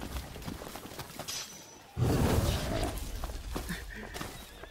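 Horses in the video game Final Fantasy XV neigh and whinny, then a louder burst of galloping hooves and movement follows, with busy game sounds around them.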